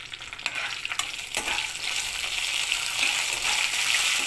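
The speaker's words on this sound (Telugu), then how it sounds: "3 రెమ్మలు కరివేపాకు వేసుకుని తాలింపు ఫ్రై చేసుకోవాలి." A tempering of peanuts, dal, cashews, mustard seeds, green chillies and curry leaves fries in hot oil, a loud steady sizzle with a few clinks of stirring near the start.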